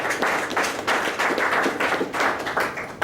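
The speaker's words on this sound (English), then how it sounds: "Please welcome Jeff with a big applause." A small audience at a lecture claps to welcome a speaker, a few distinct, fairly close hand claps pulsing in uneven bursts for about three seconds with no talking.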